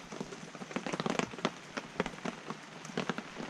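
Rain drumming on a roof during a storm, a dense steady patter of drops with sharper individual hits scattered throughout, fairly close and continuous with no voices.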